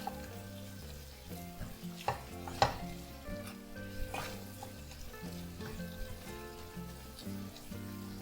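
Masala with garam masala sautés in a kadhai for Peshawari chicken: a low, steady sizzle broken by several sharp scrapes and clacks of stirring, over faint tonal background sound.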